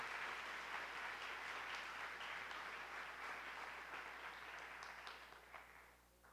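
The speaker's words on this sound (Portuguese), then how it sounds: "E essa família quer dar a você uma forte salva de palmas." A church congregation gives a sustained round of applause, dense clapping that carries on steadily before thinning and fading toward the end, fairly distant and with no voices.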